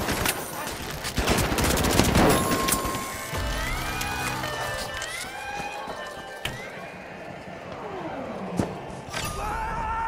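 A KS-23 shotgun fires in a video game, heavy sharp blasts followed by a scatter of further shots and clattering impacts, loud and close, with game sound effects and chimes around them.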